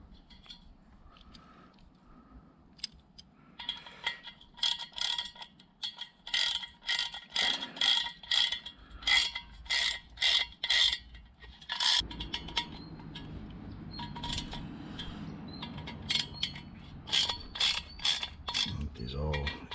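A ratchet clicking rapidly as it snugs lug nuts on chrome wheels, in bursts of quick pawl clicks with short pauses, close and fairly clear against a faint background.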